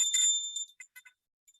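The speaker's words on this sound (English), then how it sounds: "here is my bell. I got this on a trip to Nepal." A hand bell from Nepal rings with one bright metallic strike that sustains a high, pure tone and fades, then gives a few lighter jingling taps. The sound is close and clear, with no voices.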